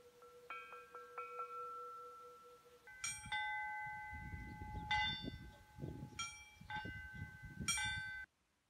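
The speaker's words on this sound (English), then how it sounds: "The Orthodox method of ringing is called chiming, where only the clapper is moved and is struck against the bell." Orthodox church bells in Moldova, rung by striking the clappers, chime in quick irregular strikes of several pitches with ringing tones, set against faint background rumble, then stop abruptly.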